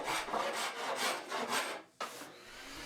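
Close, rhythmic scraping as dried carpenter's glue is taken off wooden strips, with about six even back-and-forth strokes, a short pause and then one last softer scrape. No voices.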